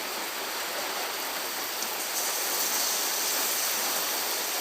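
Mutton pieces dropped into hot oil with spices in a pot for a thin curry sizzle in a loud, steady hiss that swells slightly, with no talk over it.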